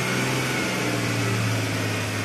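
An Ashok Leyland Bada Dost tipper's engine runs at a steady idle while the hydraulic tipper body raises, producing a continuous close mechanical drone and hum with no talk.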